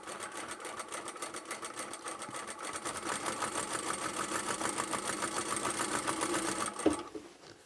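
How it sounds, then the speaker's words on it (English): A sewing machine stitches a lined wide-leg trouser hem in one steady, fast, close-up whirring run of even needle clatter, with a short thump as it stops at the end. "When I'm sewing, I'm not actually watching my needle go up and down"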